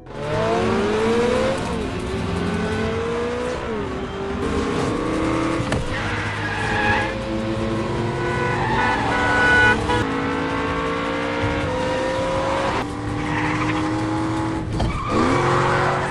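Tires skid and squeal with surging car engines through a fast car chase scene in an action film, continuous and loud, with repeated screeching slides and revving and no speech.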